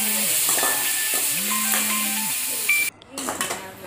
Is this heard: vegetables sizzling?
yes